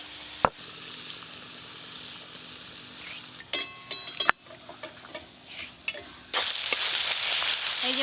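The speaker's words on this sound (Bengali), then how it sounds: "এই মশলাটা বেশ ভালো করে কষতে হবে।" Masala spice paste sautéing in a pan with oil in a village kitchen: a steady sizzle broken by a few sharp spatula clacks and scrapes, then a louder hiss toward the end, no talk.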